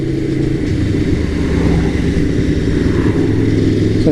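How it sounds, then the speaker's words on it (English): An Aprilia Tuono Factory motorcycle's exhaust rumbles loud and close, a deep steady throb with slight swells in engine speed throughout. "Oh, I love that exhaust, does sound amazing."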